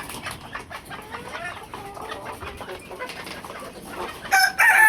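A brightly colored rooster crows and clucks in a farmyard, with scattered clucks through the clip building to a loud, close crow at the end.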